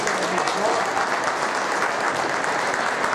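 A crowd at a high school basketball game applauds senior athletes, dense continuous clapping from many hands filling the gym at a steady level for a few seconds.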